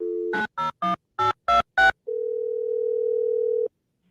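A landline telephone plays a steady dial tone, then six short keypad dialing beeps in quick succession, followed by a long, even ringback tone, all loud and close.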